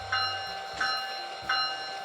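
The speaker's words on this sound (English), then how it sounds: "Notice the ditch lights flashing with the sound effect of the bell." Bell sound effect from a Bachmann ALC-42 model locomotive: three evenly spaced metallic dings, each with a ringing tone that carries between strikes, faint and alone with no talk.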